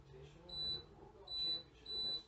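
Three evenly spaced high electronic beeps from a slow cooker timer as it is set, each tone held briefly, sounding close over quiet kitchen background while a person talks.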